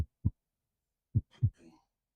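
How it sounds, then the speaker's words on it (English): A heartbeat pulsing, low muffled thumps in pairs, two soft beats, a gap, then two more followed by a faint trailing rustle, close and isolated against silence. "you can feel what is like a heartbeat pulsing into the base of the staff"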